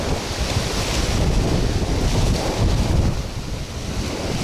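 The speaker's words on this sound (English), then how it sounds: "It is super windy out here." Strong wind roars and buffets the microphone continuously on the Florida Gulf Coast, with surf rushing underneath; loud and close, no talking.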